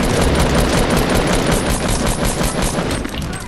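Rifle fire in the video game Fortnite rattles out as a dense, rapid, continuous burst of gunshots, loud and close for the whole stretch.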